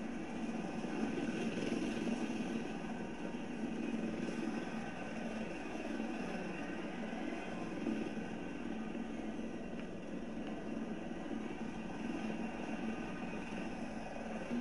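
A helicopter flies in Battlefield 4 on the Shanghai map, its steady rotor and engine roar holding evenly, moderately loud and continuous with no voices.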